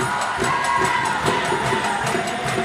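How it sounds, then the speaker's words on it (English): Volleyball supporters cheer loudly in the stands at a women's grand final, a dense sustained roar with rhythmic clapping or banging throughout. "you can hear the Santry supporters are very happy with that"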